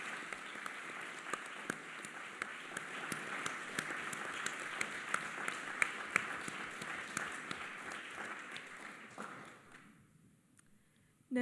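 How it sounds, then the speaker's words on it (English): Steady applause from a hall audience at a Model UN opening ceremony honouring committee chairs, fairly distant and even, dying away near the end before a voice cuts in. "This is your applause."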